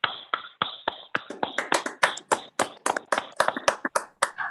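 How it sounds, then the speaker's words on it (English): A small group of board meeting participants claps, the sparse, distinct hand claps building from a few scattered ones into a quicker irregular patter, close and fairly clear in a quiet room. "join me in giving them a round of applause."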